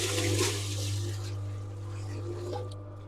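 Water pours steadily and fairly close for mixing mortar over a low mechanical hum, fading slightly toward the end.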